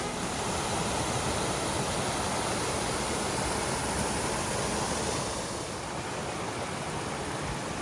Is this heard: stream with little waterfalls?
yes